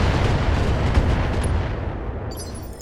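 Mech weapons in the Flashpoint video game fire in a loud, dense barrage of booming blasts. The rumble is heavy and continuous, then tails off slightly.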